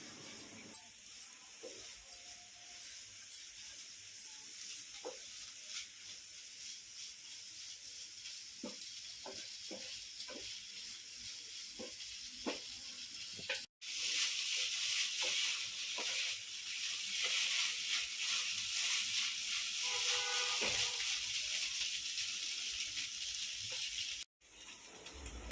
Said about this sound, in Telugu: వీటిని మనం బాగా ఫ్రై చేసుకోవాలి. తిప్పి లైక్ స్టీర్ ఫ్రై లాగా చేసుకోవాలి.